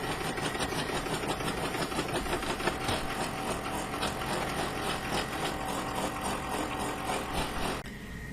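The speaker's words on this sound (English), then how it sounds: "It's going to go around this a few times to make sure that it's really well stitched and secure" An embroidery machine stitches an HTV bag held in the hoop, running a rapid, steady mechanical chatter close by for about eight seconds before easing off near the end.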